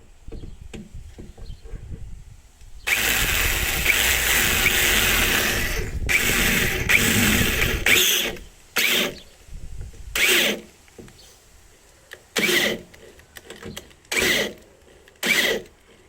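Power drill boring into the door of a Citroen C4 Grand Picasso Exclusive HDi MK1 during window regulator replacement: one long loud grinding run, then a series of short bursts with pauses between.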